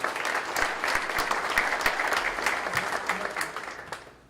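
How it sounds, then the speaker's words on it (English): Audience applause fills a press conference room for a softball program, steady dense clapping that holds for several seconds before thinning and fading at the end. "Everyone give them a round of applause, please."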